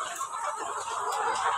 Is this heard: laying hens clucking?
yes